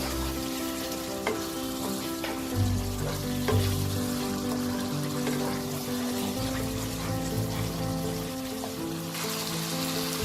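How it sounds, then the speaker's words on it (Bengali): Prawn gravy with biryani masala being stirred in a frying pan, a steady sizzling hiss of frying running throughout with soft scraping strokes from the spoon, close and alone. "দিয়ে আরো 2-3 মিনিট আমি এটাকে ভালো করে মিশিয়ে নেব"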